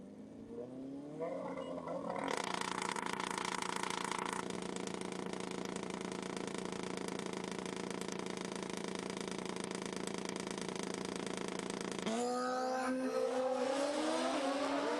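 Drag racing motorcycles, one of them a Hayabusa, launch down a strip at a Fuel Tech World Finals event, a loud sustained roar with rising engine harmonics after a brief idle, holding steady before a shift in tone near the end.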